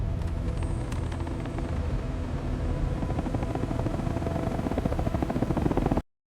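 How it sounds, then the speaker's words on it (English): A helicopter flies over steadily, its dense rotor thrum and engine rumble loud and close for six seconds before cutting off abruptly. "helicopters were sent to survey North Sentinel Island"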